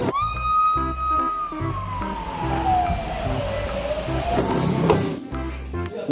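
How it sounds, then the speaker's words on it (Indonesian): A toy fire truck's electronic siren wails steadily and then sweeps downward, loud and close, with a busy backing melody playing alongside and no talking. "ada juga mobil pemadam kebakaran"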